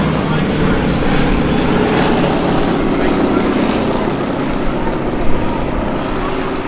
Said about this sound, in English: Listen to the sound of that engine. That's a V12 Packard-built Rolls-Royce engine.